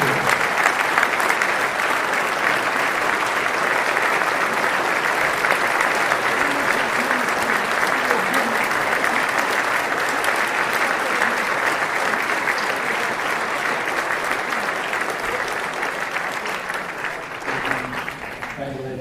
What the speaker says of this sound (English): Ladies and gentlemen, another round of applause for the 2017 inductees.